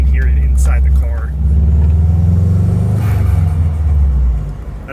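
A Subaru GC8 with a front-mount intercooler and turbo accelerates, heard from inside the car, with a steady engine rumble and a possible blow-off valve flutter; a voice talks over it.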